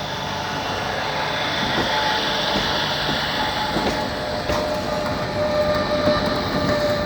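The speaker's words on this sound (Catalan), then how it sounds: "Sortida del penúltim tren des de la Tor de Querol" A train departs La Tor de Querol-Enveig station, rumbling steadily past at moderate distance, a continuous mechanical roar with faint rhythmic wheel clatter and a thin high whine throughout.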